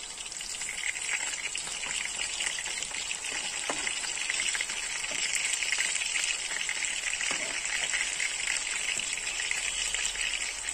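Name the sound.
karbošky patties frying in a pan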